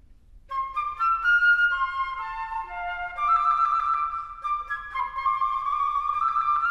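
A concert flute imitates small bird calls over the closing phrase of Mori no Kumasan in a concert hall, with bright high trills and chirping ornaments over short melodic notes, clear and solo without talking.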